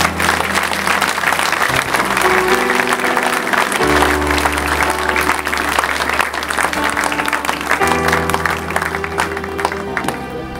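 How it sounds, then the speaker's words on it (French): A church congregation claps loudly and steadily in praise, a dense continuous wash of applause with a faint sustained musical tone beneath it. "On peut acclamer le Seigneur pour eux"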